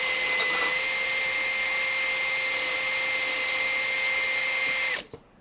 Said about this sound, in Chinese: 然后我现在再换成5 mm 的钻尾